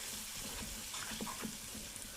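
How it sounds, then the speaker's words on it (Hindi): Water pours into a besan mixture cooking on the stove: a soft, steady splashing and trickle, faint and close, with a few light clinks and no speech. "और पानी डाल के हम इसको अच्छे से मिक्स करते हुए पका लेंगे।"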